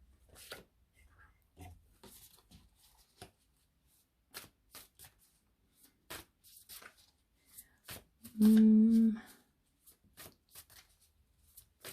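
A deck of cards shuffled close up in a quiet room gives scattered soft riffles and flicks across the stretch, with one short vocal sound in the middle.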